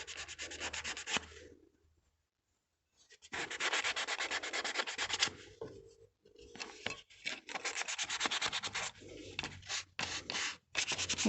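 Wood veneer from a classic car interior is rubbed down by hand with abrasive in long, steady, close strokes, a dry scratchy hiss that stops briefly and resumes in a run of back-and-forth passes.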